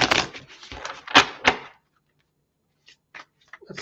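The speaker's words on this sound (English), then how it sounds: "Give this thing a nice shuffle." A deck of tarot cards is shuffled in several quick, crisp riffling bursts up close, followed by a short silence and a few lighter card flicks.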